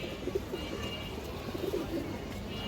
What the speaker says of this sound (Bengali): এগুলো একদম পুরনো লাইনের কবুতর